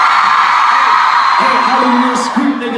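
A crowd at a live hip-hop concert in Houston yells and whoops continuously and loudly, with a voice calling out over the steady roar.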